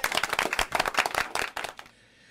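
A short burst of applause from a small group, with brisk overlapping claps that peak and then drop off sharply at about two seconds, leaving near silence.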